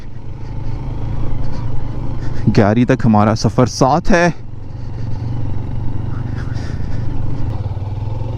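Several motorcycles ride together on the road to Gayari camp near Siachen, their engines a steady low drone throughout while someone talks briefly over them in the middle.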